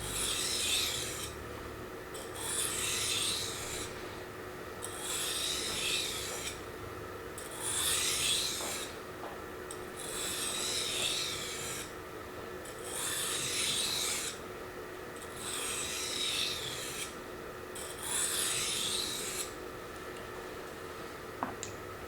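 A blade is sharpened on a Kuromaku Blue/Black 320 water stone in slow, rhythmic strokes, each a gritty, wet rasping scrape of a second or two, repeated about eight times at close range, with no talking.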